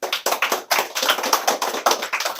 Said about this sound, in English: big round of applause for the Lynx track state qualifiers